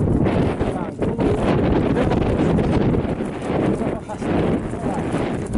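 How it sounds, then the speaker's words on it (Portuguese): Wind roars steadily across the microphone aboard a sailboat under way, a loud, gusty rush that rises and dips throughout. "Porque o vento está vindo assim."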